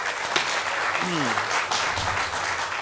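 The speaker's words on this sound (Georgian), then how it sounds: "აპლოდისმენტები შენ" Studio audience applauding through the whole stretch at a steady, dense level during a Georgian comedy contest show, with a brief voice sliding in the middle.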